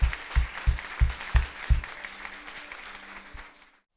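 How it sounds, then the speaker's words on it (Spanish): A church congregation bursts into applause for the Lord after a closing prayer, a dense wash of clapping with strong beats that thins and fades out near the end. "Le damos un aplauso al Señor"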